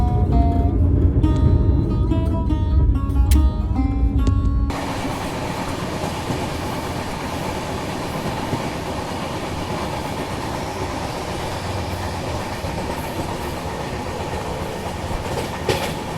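A New Delhi–Jammu Duronto Express heard from inside the carriage as it crosses the Beas river, giving a loud, steady rumble and rattling clatter of wheels on the bridge, with a brief musical tone at the start.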